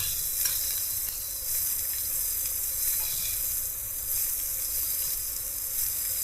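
Pieces of fish frying in a little oil in a pan in a home kitchen, giving a continuous bright sizzle with gentle swells and a soft hiss throughout.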